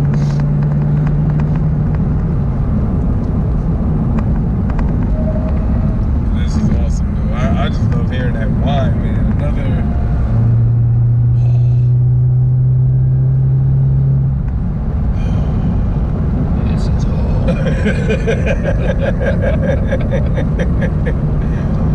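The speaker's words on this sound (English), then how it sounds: "you can hear the lightning of the supercharger, you hear the thunder of the exhaust" A loud supercharged car engine with a Roto Fab cold air intake drones continuously with a rumbling exhaust, the whine of the blower rising and falling as it drives, while voices talk intermittently.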